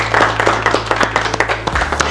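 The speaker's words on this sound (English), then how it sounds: "Let's give a hand clap." An audience claps together in a steady burst of hand claps, loud and close, lasting a couple of seconds before tapering off.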